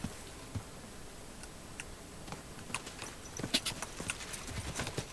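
Horse hooves clip-clopping at a walk in the video game Kingdom Come: Deliverance II, soft irregular knocks that grow busier and louder toward the end.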